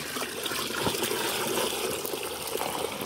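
Water is poured for livestock on a farm, making a soft, continuous trickling and splashing at moderate distance, fairly quiet and steady for a few seconds with no talking.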